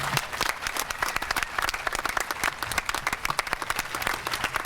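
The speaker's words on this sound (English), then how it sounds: "So a round of applause for the team." Applause from a ceremony crowd at the Hancher site, dense steady clapping of many hands, loud and sustained throughout without a break.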